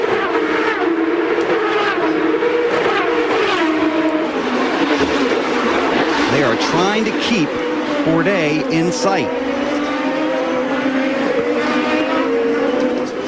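Champ Car race cars at the 2007 Long Beach Grand Prix street race, including a red and black car and a green and gold car, scream past with rising and falling engine whines while a commentator talks over them.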